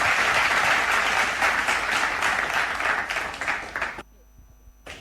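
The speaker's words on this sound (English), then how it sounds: "A round of applause for all our students who participated in this." Crowd applause at a school sports day march past, a dense loud wash of clapping that thins and fades out near the end.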